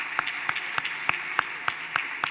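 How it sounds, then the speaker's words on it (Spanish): An audience at a panel discussion on workplace inclusion claps for the panel, a fairly sparse, regular patter of separate claps at a moderate distance, not very loud. "un aplauso bien grande para este segundo panel"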